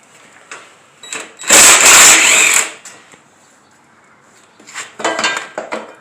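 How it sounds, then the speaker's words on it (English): A bolt comes off a 2003-2007 Honda Accord headlight bracket in short bursts of sharp metallic clinking and rattling tool noise, close by, separated by quieter gaps. "And I'm going to take this bolt off."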